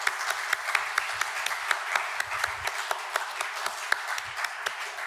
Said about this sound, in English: I actually think these deserve a round of applause.